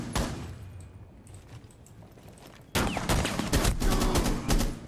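Gunfire in a Rainbow Six Siege match: after a quieter stretch of scattered shots, a loud burst of rapid repeated shots erupts partway through and continues in close, sharp volleys to the end.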